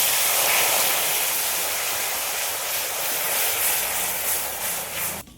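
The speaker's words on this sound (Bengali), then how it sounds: "এবার আমি আগে অল্প করে একটু জল দিয়ে দেবো।" Water poured into hot caramel while making pudding, a loud, continuous broadband hiss and sizzle close by that holds steady for several seconds before cutting off abruptly.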